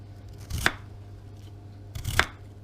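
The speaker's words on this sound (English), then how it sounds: "I'm going to carry on slicing some more potatoes" Two crisp knife cuts through potatoes, each a short chopping thud against a board over a low background hum.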